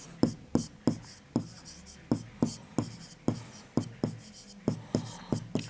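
Chalk or pen tapping and scratching out numbers during a Class 6 maths lesson on fractions, a steady series of sharp close strokes and taps with brief gaps, with a teacher's voice faintly in the background.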